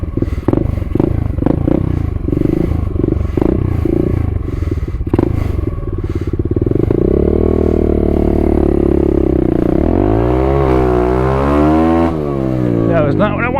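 A pit bike engine revs hard with added throttle, a loud, close, rattling blat that rises and falls in pitch, with clattering mechanical noise throughout.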